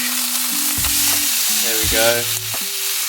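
Rice burger patties sizzle and fry steadily in a pan, the crackle loud and continuous, with a short spoken phrase and a few brief tonal sounds heard over it.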